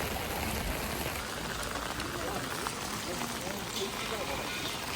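Heavy rain pours down steadily in Japan, a dense, constant hiss of drops spattering on surfaces, close and unbroken throughout.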